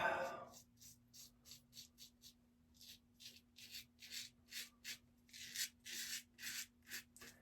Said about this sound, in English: I'm gonna do this pass against the grain